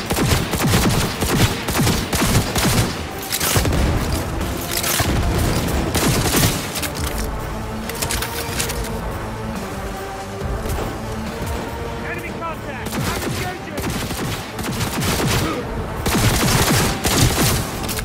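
Sustained gunfire fills a firefight in the video game Cyberpunk 2077, loud dense volleys and bursts nearly nonstop with booms and impacts, while voices talk over the shooting.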